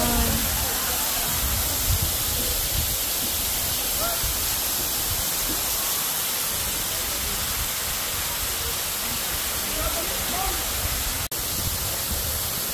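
Batlag waterfall in Tanay, Rizal, roars as a dense, constant rush of falling water close by, with one sharp tick near the end and no speech.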